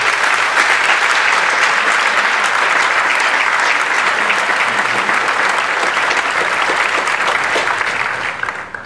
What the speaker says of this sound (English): I'd like to ask that everyone give them a round of applause